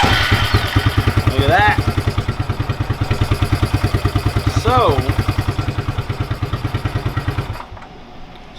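A Suzuki King Quad 300 4x4 ATV engine runs close by with a loud, steady putter of rapid even pulses, then drops off near the end, while a person speaks briefly over it.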